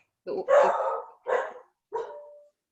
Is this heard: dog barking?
yes